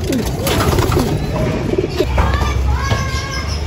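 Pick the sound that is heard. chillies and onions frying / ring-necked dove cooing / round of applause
ring-necked dove cooing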